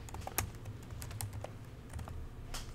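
Keys clatter on a computer keyboard as an IP address is typed, a quick burst of close, crisp clicks with short pauses between strokes over a low steady hum.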